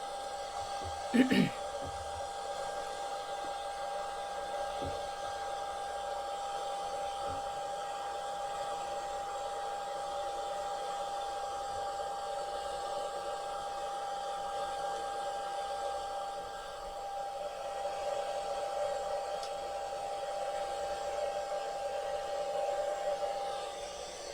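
A hair dryer blows steadily and loudly on a Persian cat during grooming, a continuous whooshing hum with a brief louder bump near the start and faint voices beneath.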